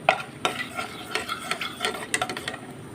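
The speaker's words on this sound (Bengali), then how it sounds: "এবার এতে আমি গরম মশলা ফোড়ন দিয়ে দিচ্ছি।" Whole garam masala fries in oil in a wok for a potato curry, a light sizzle broken by quick clattering scrapes of a spatula stirring the spices, close and distinct, with no voices.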